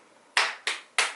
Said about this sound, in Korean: 이렇게 박수를 쳐주셨어요. 짝짝짝.